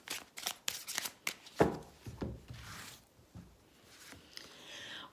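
Tarot cards shuffled for a reading, a quick run of crisp riffling snaps followed by softer rustling and sliding, close and quiet with no talk.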